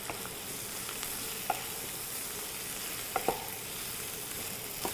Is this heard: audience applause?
no